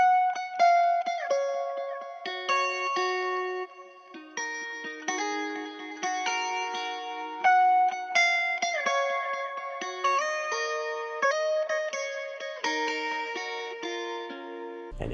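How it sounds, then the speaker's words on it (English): Two layered guitars pick out a bright melodic figure of plucked notes and chords in a music production, clean and steady over about fifteen seconds with a slight echo, stopping abruptly at the end. "On top I added 2 guitars."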